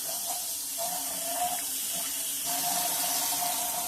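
Water runs steadily from a kitchen tap while a jalapeño is rinsed under it, a continuous close hiss and splash with small shifts in the flow and no talking.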